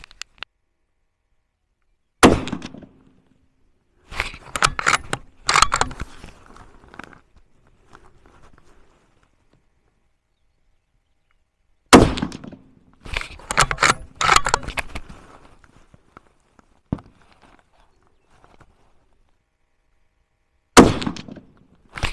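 Rifle shots ring out at a target 100 yards away during a Hawke Sidewinder scope test, arriving as loud, sharp cracks in spaced clusters with quieter handling clicks and rustles between them, and no talk.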